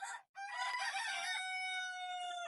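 A rooster crows at a hot, smelly poultry farm where Fayoumi hens are laying, a long drawn-out call after a short opening cluck, fairly faint but clear, with no talk over it.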